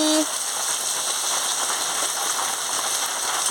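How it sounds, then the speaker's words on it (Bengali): Elephant apple (chalta) sizzles while frying in a pan, a steady close crackle that starts right after a short beep and continues evenly throughout. "দিয়ে ভালো করে চালটাটাকে ভেজে নিচ্ছি"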